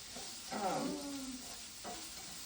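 Onions sauté in a hot pan with a steady, close sizzling hiss that swells briefly, accompanied by short tonal, voice-like sounds.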